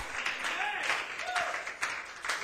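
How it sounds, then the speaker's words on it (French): A church congregation claps together during a worship service, a dense, steady patter of hands close by that rises and falls over the music-like background. "Applaudissez le Seigneur Jésus."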